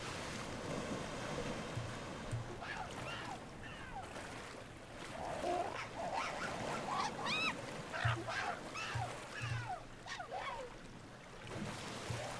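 Steady wash of water waves across an open shore in Spore, a continuous surf bed heard alone with bird-like calls and chirps layered over it.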